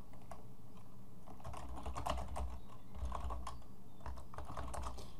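Steady typing on a computer keyboard while entering a commit message, with a fast, continuous run of close keystroke clicks and no talking.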